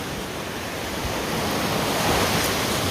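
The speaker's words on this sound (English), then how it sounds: "at the beach and the waves and the ocean" Ocean waves breaking on a beach at sunrise, a dense, continuous roar of surf with some wind buffeting the microphone, loud and close, with no talking.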